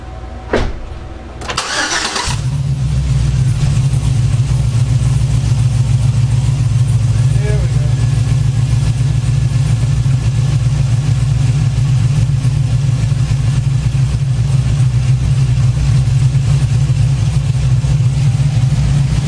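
A Chevrolet Trailblazer SS engine with a coolant-soaked drive belt starts after a few brief knocks, then settles into a loud, steady, close idle drone that runs without a break to the end.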